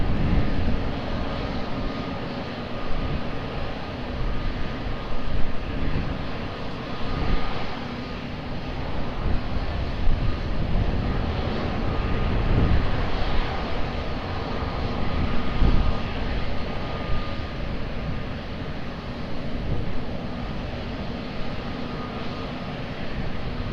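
A fixed-wing airliner on approach to runway 20 at Lisbon Airport gives off a steady broadband engine roar that holds loud and even throughout, with no one talking.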